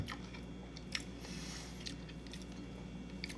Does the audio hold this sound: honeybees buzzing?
no